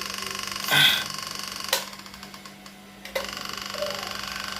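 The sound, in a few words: electric fan motor running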